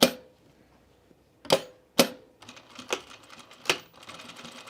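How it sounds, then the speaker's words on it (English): A home sewing machine stitches across a small spot on a men's raglan shirt, heard as a few sharp mechanical bursts and taps against near silence at the start, with no talking. "I'm just going to sew across this little spot here"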